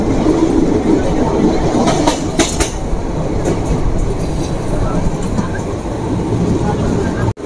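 The Kolkata–Digha special train runs along the Dakshineswar line, its continuous loud rolling rumble carrying faint rhythmic wheel clatter. A few brief sharper knocks sound near the start, and a short dropout comes right at the end.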